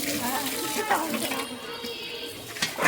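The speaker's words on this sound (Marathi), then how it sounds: "आपलं ताट आपणच धुवायचं असतं" Steady running water streams from a tap with faint splashing as a plate is rinsed, close and continuous, with a voice briefly audible underneath.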